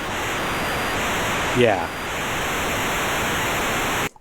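Hexinverter VCNO synthesizer module puts out a steady hissing, sizzling noise with a brief chirp partway through; a voice briefly speaks before the sound cuts off abruptly.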